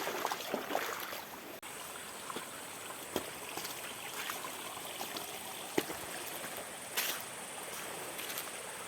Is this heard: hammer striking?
no